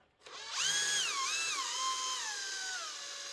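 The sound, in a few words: battery drill spinning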